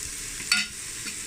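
Paste ingredients for a Thai-style tom yum fish soup stirred and sizzling in a hot pan, a steady soft fry with one brief louder scrape of stirring midway, heard alone without talk.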